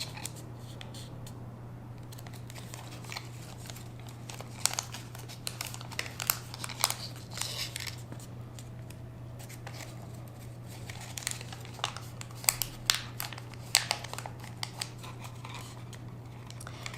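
Paper crinkles and rustles in scattered soft bursts as origami flower petals are curled by hand, close and quiet over a low steady electrical hum.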